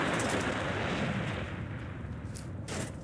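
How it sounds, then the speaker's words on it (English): A Fat Man nuclear launcher blast in Fallout 4, a dense, loud roaring rumble that holds steady for a few seconds with a faint rise near the end. "I first tried using the alien blaster, then Adam's Judgment Super Sledge, a rocket launcher, and finally the Fat Man."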